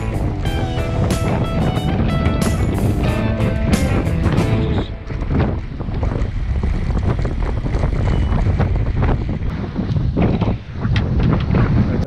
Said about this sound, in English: It's a wet, windy day here today.